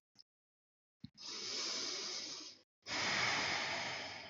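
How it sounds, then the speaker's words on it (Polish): Slow, deliberate breaths during a yoga practice: after two tiny clicks, one long airy exhale is followed by a short pause and a second long breath, close and quiet. "Chwilę zostań tutaj, oddychaj raz."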